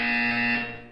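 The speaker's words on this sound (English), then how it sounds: "When you hear the buzzer, look down at the floor" A loud, steady electronic buzzer from the video game Portal 2 sounds once, a harsh sustained tone that holds evenly before tapering off at the end.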